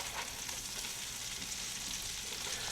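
Venison backstrap steaks frying in a pan, a steady close sizzle and crackle of fat without pause, fairly quiet and free of speech.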